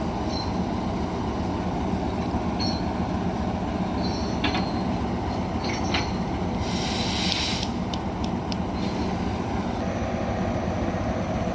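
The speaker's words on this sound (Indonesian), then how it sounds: "Lokomotif telah terlepas dengan rangkaian KRL dan juga bandulnya" Rail machinery rumbles steadily at a distance, with metallic clanks and a brief high squeal as a locomotive uncouples from a former Japanese commuter electric train set at PT INKA in Indonesia.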